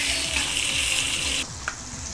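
Freshly cut tomatoes sizzle loudly in a pan for mutton fried gravy, a dense close hiss with rhythmic scraping strokes underneath, dropping slightly in level near the end with a brief clink.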